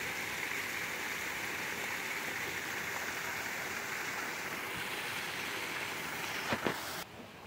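Water rushes and churns steadily into a canal lock around a narrowboat, a loud continuous roar of flowing water close by that cuts off abruptly near the end.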